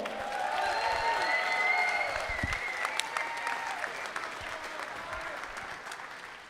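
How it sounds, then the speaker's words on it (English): Sustained audience applause at the 2023 ACL cornhole world championships, a steady wash of clapping from a large crowd with a little cheering, holding loud before slowly tapering off. "Please put your hands together"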